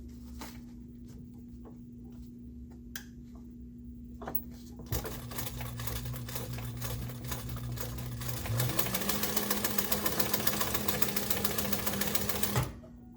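A sewing machine stitches a zigzag seam on webbing, starting with a few isolated needle taps, then running in a fast, steady mechanical chatter that speeds up and grows louder before stopping abruptly.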